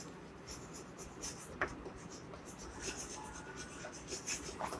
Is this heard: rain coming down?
no